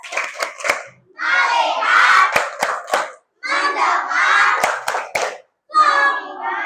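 Schoolchildren in an Indonesian classroom perform the "tepuk fokus" clapping routine, sharp rhythmic hand claps alternating with loud group chanting in bursts, close and energetic.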